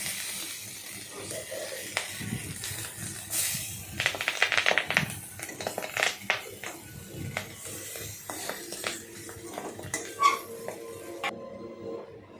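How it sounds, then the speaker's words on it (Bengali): Fried banana leaf being flipped over in a pan, with scraping and clinking of a utensil against the pan in bursts over a faint frying sizzle, a few sharper knocks standing out. "কলা পাতা ভাজাটাকে উল্টে দেবেন।"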